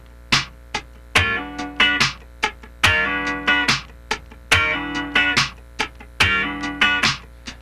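Funk rhythm guitar slides on a 9th chord with the fretting hand held down and the picking hand floating, giving short bright strummed stabs in a syncopated sixteenth pattern, repeating in even phrases with no talking.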